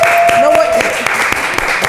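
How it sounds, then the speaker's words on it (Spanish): Audience clapping greets Rodrigo Palma with sharp individual claps spread over a sustained tone. The applause is moderately close and irregular, and no talking is heard. "a quien quiero que por favor le demos un aplauso."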